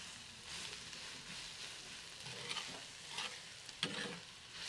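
Tomato with salt fries in a pan for chile negro quesadillas, giving a steady close sizzle broken by scraping stirs of the spoon, with no talk.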